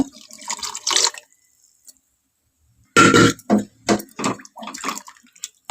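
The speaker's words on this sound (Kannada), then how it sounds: "ನಾನು ನೀರು ಹಾಕೋತಾ ಇದ್ದೀನಿ ಈಗ" After a quiet pause, water glugs into a pot in several short gurgling bursts, close and fairly loud.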